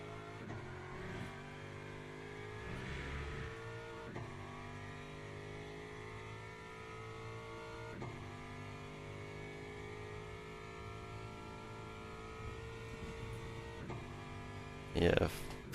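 A race car engine warms up in a racing video game such as Forza or ACC, a steady multi-toned drone with faint rev changes, quiet under occasional speech, ending in a brief louder burst.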